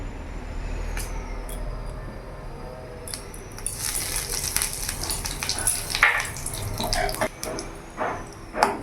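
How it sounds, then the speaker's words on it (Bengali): Panch phoron spices and a dried red chilli crackle in a little mustard oil, a steady close sizzle scattered with sharp pops and spits that grows busier over several seconds, with no talk. "ফোড়নটা ভাজা হয়ে গেছে।"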